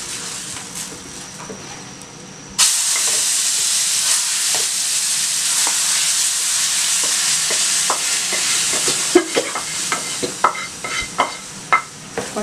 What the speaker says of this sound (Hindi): तो अब हम ये तड़का दाल में डालेंगे।